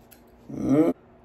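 Scissors snip through the excess clear lace on a wig in a single short, close cut lasting about half a second, with quiet room tone around it.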